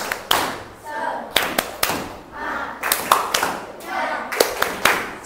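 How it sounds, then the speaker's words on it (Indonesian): A classroom group performs the 'tepuk semangat' spirit clap routine, sharp rhythmic hand claps in short patterned bursts, interleaved with voices chanting along and a few thumps. "Oke, sekarang kita coba 1, 2, 3 tepuk semangat."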